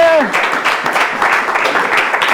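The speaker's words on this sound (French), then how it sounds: "Ça s'applaudit quand même, non?" A studio crowd at a televised school quiz show claps after a school's 9-out-of-20 score, a brisk, moderately loud patter of hands with a voice briefly heard at the start.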